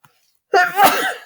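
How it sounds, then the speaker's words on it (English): A single sharp sneeze bursts out after a moment of silence, close and loud, with a breathy, voiced tail trailing off. "every time I'm recording these videos, I got a little sneeze here"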